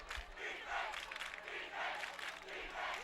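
Crowd at a high school football game between Ravenwood and Independence cheers and yells in a steady, broad roar that swells and dips over a few seconds, with no clear single voice on top.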